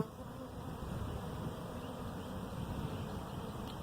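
Honey bees from a colony rescued from a tree buzz steadily inside their hive, a dense, continuous low hum that stays even throughout with no voices.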